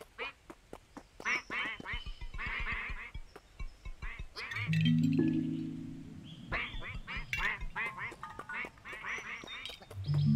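A duck quacking in a video game, repeated rapid nasal quacks in bursts, loud and close, with someone talking over and between them.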